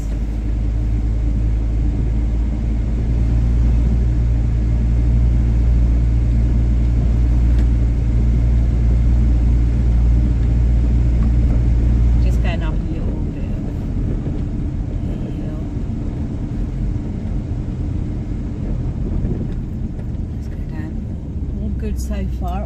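A Ford Transit van driving on a road after an automatic transmission top-up, heard from inside as a loud, steady low engine and road rumble that eases slightly partway through.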